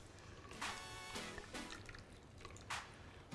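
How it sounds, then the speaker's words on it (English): A margarita being strained into a glass, heard as faint, close liquid trickling and dripping in short bursts with small splashes, no talking. "And we're going to strain this cocktail."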